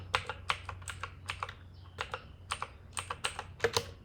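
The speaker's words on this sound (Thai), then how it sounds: "พิมพ์ database ลงไปเลยนะครับ" Keys clatter on a computer keyboard as a database name is typed into an SQL command, in quick irregular bursts of close, crisp clicks with short pauses between runs.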